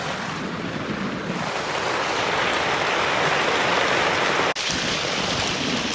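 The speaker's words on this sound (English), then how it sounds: "But continue to watch what happened in the rain pouring down." Heavy rain pours down at a Thanksgiving campsite in a loud, dense, unbroken hiss that stays close and constant, dropping out for a brief instant partway through.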